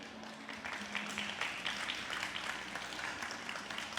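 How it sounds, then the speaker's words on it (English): Audience applause at the Dragons' Chamber Taiwan 2025 pitch event, a steady, moderately loud crowd clapping that carries evenly for about four seconds. "I'd like a round of applause for our co-organizers"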